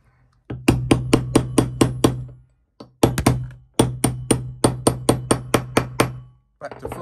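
Hammer blows strike a punch to seat the main nozzle of a two-stroke carburetor: close, sharp metallic taps in quick, even bursts of about six to eight, separated by short pauses.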